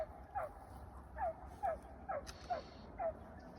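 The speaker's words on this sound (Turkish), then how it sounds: "Köpekler geliyor atlasan da." Hunting dogs bark in the distance during a wild boar hunt in cornfields, about seven faint, short barks at a fairly regular pace over quiet background noise.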